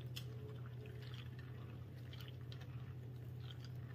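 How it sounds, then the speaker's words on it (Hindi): Corn cobs are rubbed and washed by hand in water, giving a continuous soft sloshing, squishing and dripping close by over a low steady hum. "यहाँ पे हम पानी में डाल रहे हैं, खूब अच्छे से मसल मसल के धो लेंगे।"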